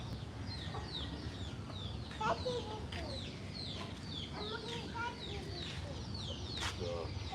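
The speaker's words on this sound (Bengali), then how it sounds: "দেখো মুরগি আম খায়" Chickens cluck repeatedly in short, soft calls while pecking at mango on the ground outdoors, set against a steady low background hum.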